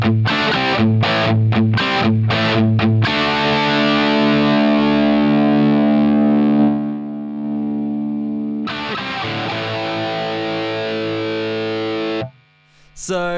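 An electric guitar plays through a cranked Plexi amp model in Line 6 Helix Native, with heavily distorted chords. Choppy strummed hits lead into long sustained ringing notes, then a fresh chord and an abrupt cutoff.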